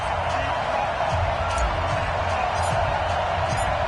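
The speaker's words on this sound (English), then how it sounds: "This crowd is ready as their guys get set to match up between the Cincinnati Bengals and the Cleveland Browns." Steady roar of a stadium crowd at an NFL game between the Cincinnati Bengals and Cleveland Browns in a PS4 football game, a dense continuous wash of crowd noise with no distinct cheers or voices standing out.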